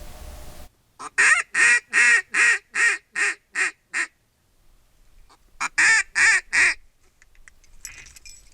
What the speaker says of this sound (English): That's a lot of ducks out there.